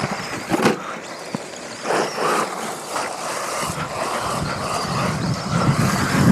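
An RC rally car drives at speed on gravel inside a huge indoor arena, a whining little motor rising and falling with crunchy gravel noise and reverberant room tone, fairly close and continuous.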